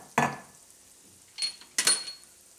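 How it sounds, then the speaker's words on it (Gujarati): A spoon scrapes and clinks in a pan of oil as red chili powder and asafoetida are stirred in with the gas off, giving three short, close metallic bursts separated by quiet. "તેલમાં આ રીતે મિક્સ કરી દેવાનું બધું મરચું."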